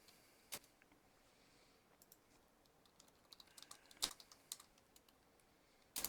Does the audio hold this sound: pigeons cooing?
no